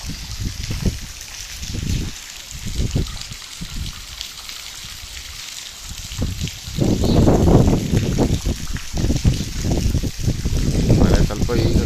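Knee-deep rainwater, about 1.5 feet, running across the Napoklu road near Bhagamandala, rushing and splashing in a steady wash, with someone talking over it and louder surges in the second half.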